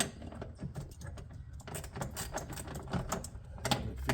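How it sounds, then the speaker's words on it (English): A 1/4-inch ratchet on an extension turns 10mm bolts on a Jeep JK, making rapid close-up pawl clicks in quick bursts throughout, fairly quiet, with no talking. "I'm using all 1/4-inch ratchet, 1/4-inch ratchet extensions, just to keep it lower profile"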